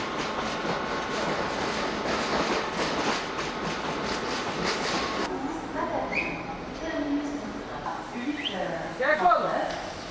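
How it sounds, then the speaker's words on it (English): A local train rumbles along the rails of the Toulouse–Lourdes–Bordeaux line in France, with a steady rushing roar that drops off midway, leaving quieter rolling noise and a few faint squeaks. "a brief glimpse at one of the new local trains"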